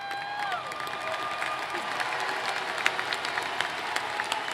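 A large commencement crowd applauds and cheers for the graduates, dense clapping filling a big venue with a steady roar and occasional sharper claps and whoops, a few fading musical tones at the very start.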